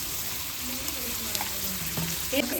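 Ginger garlic paste frying in a pot of onions and spices for chicken biryani, a dense continuous sizzle close up, with a few faint clinks and stirring scrapes.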